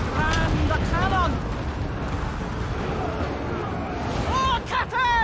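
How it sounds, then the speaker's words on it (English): Cannon fire on a Total War: Warhammer III battlefield, deep continuous rumbling booms under a busy din of battle with chirping effects and a speaking voice. "And the cannon!"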